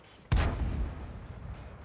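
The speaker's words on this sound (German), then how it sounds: "Das ist ein Schuss." A single loud, booming tank cannon shot fires in the video game World of Tanks, a sharp blast followed by a rumbling tail that fades over about a second.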